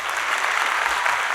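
Audience applause at a city council event, a steady dense wash of clapping from a crowd with no gaps across the short stretch.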